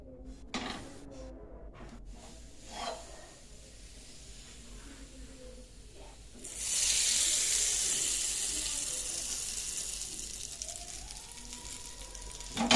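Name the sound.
hot oil poured over pickle, sizzling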